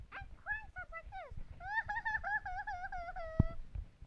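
A voice imitates crying with a run of wavering, nasal wails that rise and fall, loud and close, ending in a sharp thump.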